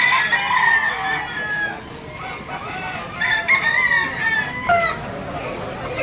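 Several roosters crow in repeated, overlapping calls at a busy pet market in Malabon, with clucking and fowl noises between them. Voices talk nearby throughout.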